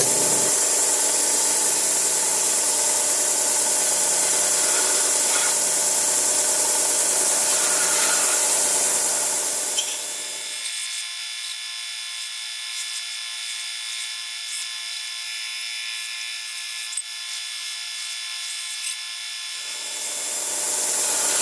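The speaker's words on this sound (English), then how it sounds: "we're right on the end of the bench sander, belt sander. I'm going to just turn this around here and there, give it a little bit of a sculpting character" A bench belt sander shapes a small wooden dragonfly ornament as the piece is turned against the belt, giving a steady loud whir and abrasive rub that shifts in tone midway as the contact changes.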